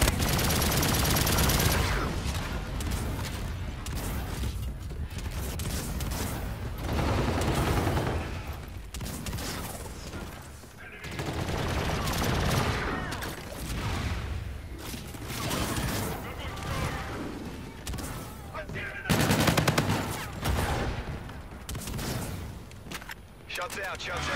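Gunfire in a multiplayer shooter video game: dense, loud bursts of shots rattling almost continuously with brief lulls, mixed with game noise and talk.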